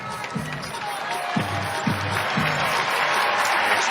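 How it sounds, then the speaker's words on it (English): A women's college basketball crowd at a UConn vs Marquette game applauds as a player comes off the floor, a broad arena roar with scattered claps and squeaking sneakers under it. "As you see Chen come off the floor and get nice applause"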